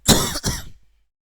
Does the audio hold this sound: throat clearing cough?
yes